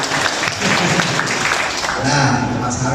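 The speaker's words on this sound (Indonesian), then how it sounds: "Oke, tepuk tangan dulu untuk next step sekali lagi" An audience applauds for startup finalists at an incubation event, a dense steady patter of clapping throughout, loud and close.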